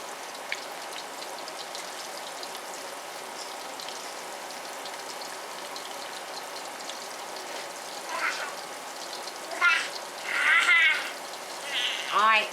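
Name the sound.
chicken frying on NuWave induction cooktop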